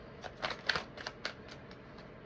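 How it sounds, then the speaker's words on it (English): Tarot cards being shuffled by hand, a quick series of soft papery riffles and taps, about ten light bursts at close range with no voices. "One last shuffle"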